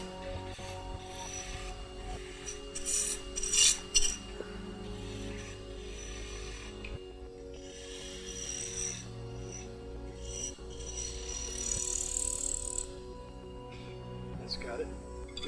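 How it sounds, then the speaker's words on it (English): A spindle roughing gouge shapes a wooden piece with a copper ferrule on a spinning lathe, giving a continuous scraping rasp with intermittent louder cutting bursts over a steady motor hum. "I'm going to go back and use my spindle roughing gouge"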